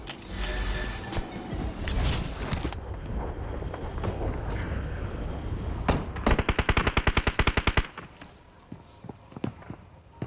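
Gunfire in the BGMI mobile battle game, heavy blasts and rapid rattling machine-gun bursts mid-clip, followed by scattered single shots and footstep-like clicks.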